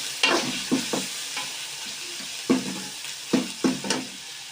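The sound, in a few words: mutton liver frying with chilli and turmeric, stirred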